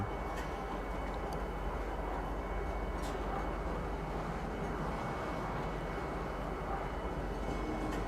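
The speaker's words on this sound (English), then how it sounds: "Now arriving, Central Station. Please watch your step when disembarking the train." A transit train in Star Citizen pulling into Central Station, a steady loud rumbling roar with a constant hum and no distinct breaks, no talking.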